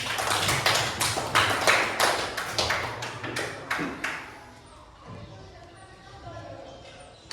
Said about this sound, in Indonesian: tepuk tangan dulu untuk Sardi